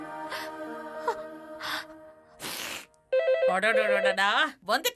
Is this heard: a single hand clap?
no